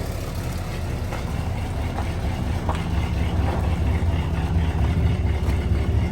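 A 1964 Chevy Corvette Stingray with a 327 V8 running just after an Edelbrock carburetor swap, giving a loud, steady, unbroken engine rumble close by throughout.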